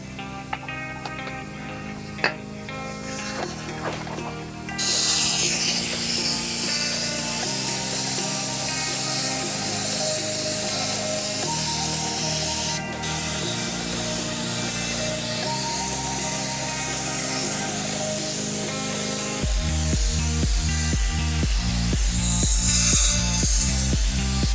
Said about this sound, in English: We're gonna get some primer on the fender now.